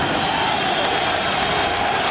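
Stadium crowd at a 2005 Chargers at Patriots NFL game, a constant, loud wash of thousands of voices and murmuring noise, unbroken and even across the moment.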